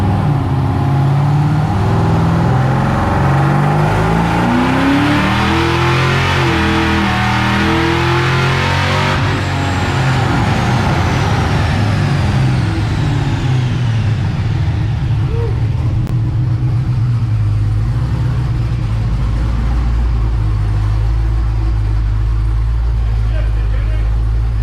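An LSA V8 in a truck revs hard through third- and fourth-gear pulls, its loud, climbing engine roar building to a high whine before dropping back to a steady, lower drone.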